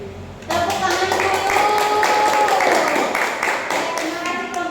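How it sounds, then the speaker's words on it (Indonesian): Hands clapping together in a classroom, a quick burst that starts abruptly and carries on steadily close by, with students' voices mixed in. "Tepuk tangan dulu."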